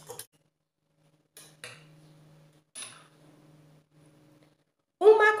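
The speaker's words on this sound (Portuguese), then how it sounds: "eu vou utilizar 2 ovos inteiros. Vou dar uma batidinha." Two whole eggs beaten with a utensil in a bowl for a snack dough: a few short metallic clinks and taps, separated by pauses, ending in a brief louder burst of clatter.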